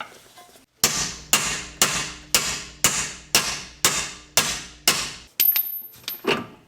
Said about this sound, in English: So the idea is to get the thrust arm out and you knock it from below.